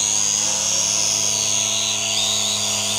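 Brushed motors on a Fei Lun FX176C1 quadcopter whine steadily and close, a constant high buzzing hum with no voices.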